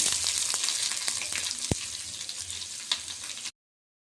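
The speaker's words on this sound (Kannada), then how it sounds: "ನೋಡಿ ಈರುಳ್ಳಿ ಎಲ್ಲ ಚೆನ್ನಾಗಿ ಫ್ರೈ ಆಯಿತು" Onion fries in hot oil with cumin, mustard seeds and curry leaves, crackling in a steady close sizzle with a few sharp pops and a spoon tap, no voices, ending in a brief cut to silence.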